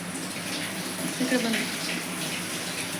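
Water gushes steadily from a tap into a vessel as it fills, a continuous broadband rush close by, with a woman's brief words over it.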